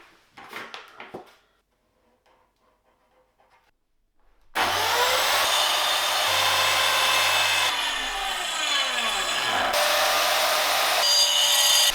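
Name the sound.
sawing wood pieces to length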